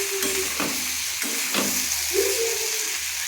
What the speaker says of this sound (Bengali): আস্তে আস্তে আলু ভাজাটা হবে।